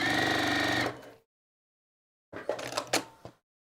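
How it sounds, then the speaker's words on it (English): A sewing machine runs steadily through a few stitches on scrap fabric, then stops; after a short silence it starts again for a second, shorter and more uneven burst of stitching, with nobody talking. "I'm gonna take my first few stitches on this"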